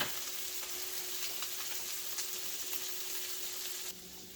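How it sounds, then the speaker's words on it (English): Crappie fillets simmer in a pan with a steady, close sizzle and crackle that carries on evenly, then drops abruptly to a quieter hiss near the end. "So now I'm going to turn this down and just let it simmer"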